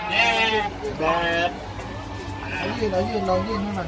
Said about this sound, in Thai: ว้าวแกะเยอะมากค่ะทุกคน